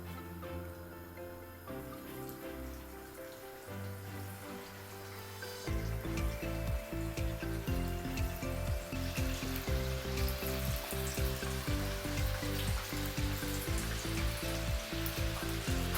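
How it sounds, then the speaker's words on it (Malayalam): Pieces of beef for chilli beef dry fry are dropped into deep, boiling oil. A quieter opening gives way to a loud, steady sizzle and crackle that keeps going to the end. "ഇതിലേക്ക് നമുക്ക് ബീഫ് ഇട്ട് കൊടുക്കാം."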